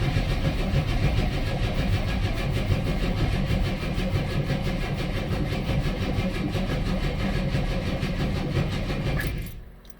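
A car that has stood unused for two years cranks over and over without catching, a loud, steady, rhythmic churning for about nine seconds before it cuts off abruptly.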